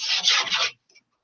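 Plastic is sanded by hand in a circular motion before priming, giving a steady raspy scrubbing that lasts under a second and then stops, close and alone.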